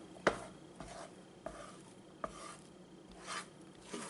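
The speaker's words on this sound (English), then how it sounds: "again go on mixing it for another 30 seconds" Kaju katli mixture being stirred in a pan just after the flame is switched off, giving irregular scraping and rasping strokes with a few sharper knocks, close and fairly quiet, no voices.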